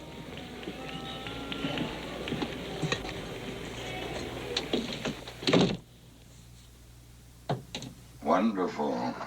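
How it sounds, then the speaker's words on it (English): In a 1969 film scene, a door is shut with a solid thud that cuts off a noisy background of voices and bustle. Quieter talk and a few knocks follow. "Shut the goddamn door."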